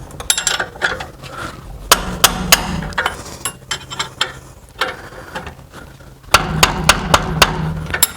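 Close, sharp metallic hammer strikes ring out on the rear brake parts of a 2013 Mercedes C300 in scattered bursts. Several blows land in quick runs, separated by brief pauses, with no voices.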